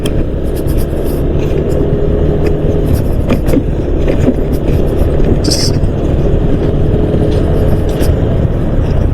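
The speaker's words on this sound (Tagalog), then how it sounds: "Ang dami ng sasakyan." Continuous road traffic noise with vehicles passing on a road soaked by heavy rain, a steady loud rumble and hiss throughout.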